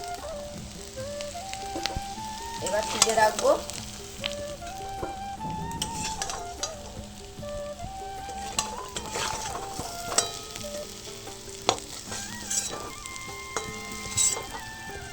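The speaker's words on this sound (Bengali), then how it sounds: "আলুগুলোকে একটু ভেজে নেব" Boiled potatoes fry in mustard oil in a pan with a steady, close sizzle, broken by the scrape and clatter of stirring, and a voice speaks briefly near the end.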